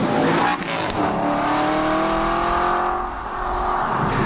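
An Aston Martin V8 Vantage engine roars steadily while the car is driven, a loud, continuous rumble with rising and falling tones as it pulls along, heard alone without talk.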